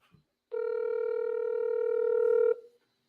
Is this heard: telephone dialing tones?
yes